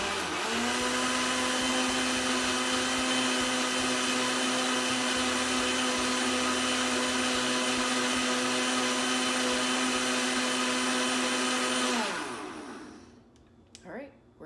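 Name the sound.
blender blending a matcha green tea smoothie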